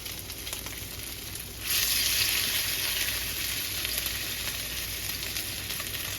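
Potato-crusted salmon laid into a smoking hot pan, the sizzle jumping suddenly louder partway through and then holding as a steady, close searing hiss with no talking.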